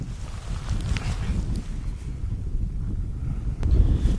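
Steady wind buffets an outdoor microphone at around 10-15 miles an hour, a constant low rumbling roar with a stronger gust near the end.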